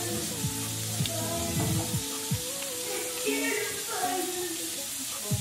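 White part of a green onion hits a hot pan with a loud, steady sizzle, scraping stir strokes and clinks cutting through the frying hiss.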